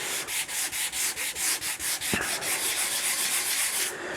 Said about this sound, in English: I'm convinced there is only so much sanding that you can watch me do